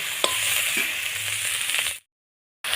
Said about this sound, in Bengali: একটু কম তেলের মধ্যেই এই যে মশলাটা ভেজে নিচ্ছি